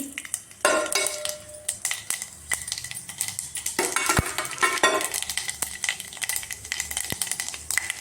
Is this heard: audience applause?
no